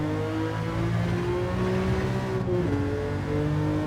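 A Ferrari Dino in Gran Turismo 7 accelerates at full throttle on a race circuit. The engine note rises steadily and stays loud and continuous, with a brief dip near the end.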